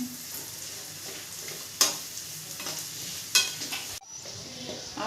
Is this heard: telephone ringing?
no